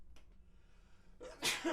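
A single sharp human sneeze bursts out near the end after a brief quiet intake, close and fairly loud, during a wrestling podcast.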